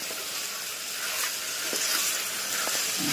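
Vegetable khichdi tempering sizzles hard in hot oil in a pan, a dense, continuous crackling hiss heard up close and alone, growing slightly louder toward the end.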